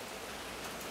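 Heavy rain pours down outdoors in a steady, dense hiss of broadband noise that fills the short moment with no voices.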